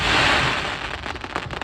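Fireworks bursting at an outdoor display, a loud rolling boom up front that fades into a run of quick crackling pops and fizzles, heard from the crowd with no talk.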